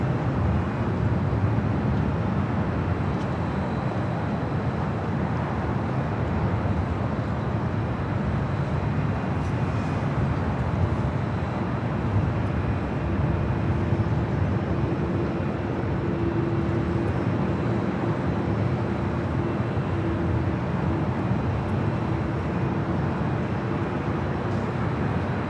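A Japan Airlines heavy jet bound for Tokyo Narita on its takeoff roll down runway 24 left at LAX, a loud, continuous broadband roar with a faint steady whine running beneath it, unbroken for the whole stretch.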